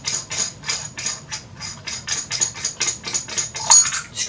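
A William Optics Flat 61A adjustable field flattener is unscrewed, giving a quick, steady series of close metallic ratcheting clicks, alone and fairly loud.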